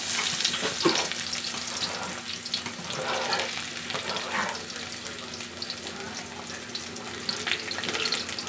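Onion frying in a pan gives a steady, close sizzle with occasional stirring scrapes, moderately loud and unbroken, with no talking.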